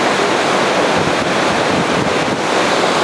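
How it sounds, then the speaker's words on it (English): Loud, steady rushing roar of a waterfall in Yosemite, broad and continuous with wind buffeting the microphone throughout, no voices. "there's a waterfall behind me"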